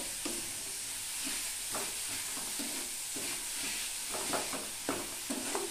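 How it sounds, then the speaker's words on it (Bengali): Jaggery filling for puli pithe is stirred in a pan over a low flame, giving soft repeated scraping strokes over a constant faint hiss, quiet and steady with no speech. "এভাবে একটু অনবরত নেড়ে চেড়ে দিতে হবে"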